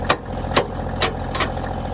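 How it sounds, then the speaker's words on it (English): A tractor engine runs steadily nearby with a low, even rumble, punctuated by a few regular sharp knocks or clanks roughly every half second. "The tractor's running"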